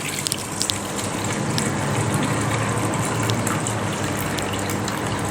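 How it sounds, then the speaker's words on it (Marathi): Soaking water from swollen lentils and foxtail millet pours out into a vessel as a continuous, close gushing stream, fairly loud and steady, with no voices. "एका भांड्यामध्ये आपल्याला हे पाणी काढून घ्यायचं आहे"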